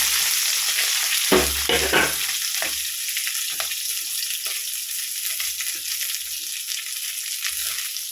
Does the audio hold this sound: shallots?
yes